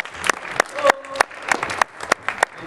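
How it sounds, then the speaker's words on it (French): Basketball players at practice clap for latecomers, a loose scatter of separate sharp claps rather than a steady round, with a voice speaking briefly between them. "Quand il y a des gens qui arrivent en retard, vous les applaudissez parce que c'est comme ça."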